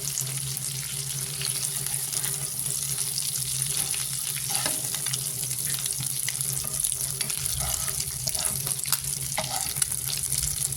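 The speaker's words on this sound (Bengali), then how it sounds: "বেশি ভাজবো না, কারণ ডিমটা শক্ত শক্ত হয়ে যায়।" Eggs frying in oil in a pan for a Bengali egg curry, a steady dense sizzle and crackle running throughout with occasional small pops and utensil clinks, close and fairly loud with no talking.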